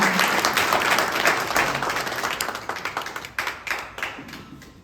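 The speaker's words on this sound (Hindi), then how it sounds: "आप लोग तालियां बजा के स्वागत कीजिए।" A crowd at an Eid gathering claps and applauds loudly, the dense clapping thinning into scattered individual claps that fade out over a few seconds.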